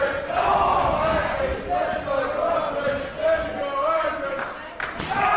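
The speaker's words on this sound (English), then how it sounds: "there is a sizable minority cheering for Eddie Edwards here, and you can hear the competing chants" Wrestling crowd at an Eddie Edwards versus Roderick Strong match, chanting in rival camps for the two wrestlers; a loud, continuous mass of voices with rhythmic chanted phrases rising and falling throughout.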